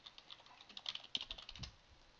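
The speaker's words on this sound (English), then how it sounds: "in here, I will type Firefox download" Keys tapped on a computer keyboard, a quick run of light, faint clicks with uneven rhythm, close and alone without talk.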